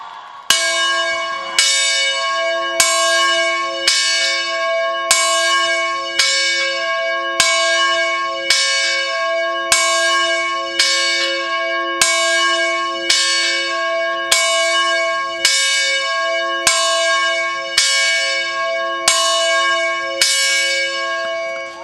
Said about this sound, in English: Patrick, ring that bell.